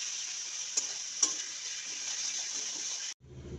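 Steady, bright sizzling of green peas frying with salt in a wok, with a couple of light clicks from stirring, before it cuts off abruptly near the end.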